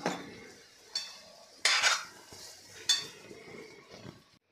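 A spoon scrapes and clinks against a pan in a few distinct strikes as ground masala paste goes in and is stirred for a methi bhaji, close and fairly quiet, no voices.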